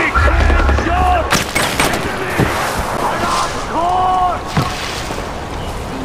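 Scattered gunshots ring out in Far Cry 4, a few sharp cracks spaced over several seconds against a steady background rumble, with faint voice-like sounds in between.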